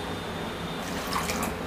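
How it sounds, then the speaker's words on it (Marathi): Water is poured into a pressure cooker holding dal with turmeric and salt. A brief, soft splashing rush starts about halfway through, over a low kitchen background. "पाणी घालते मी"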